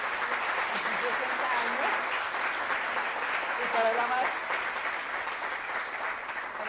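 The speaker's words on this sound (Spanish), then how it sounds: "estoy pidiendo un aplauso para esta facultad" Sustained applause from an audience honouring a university faculty at its 60th anniversary ceremony, a steady dense clatter of clapping running throughout with a speaking voice over it.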